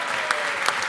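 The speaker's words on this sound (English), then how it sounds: "Please, can we all give them a big clap for Stephen" Audience clapping in a hall after a call to applaud Middlesbrough's Stephen McCarran, a steady crackling wash of many hands with two brief louder swells, no voices over it.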